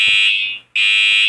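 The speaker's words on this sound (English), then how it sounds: "Why is the fire alarm going to take so long?" A school fire alarm rings loudly and close, a harsh high electronic tone that cuts out briefly near the middle and then resumes at full strength, with no voices.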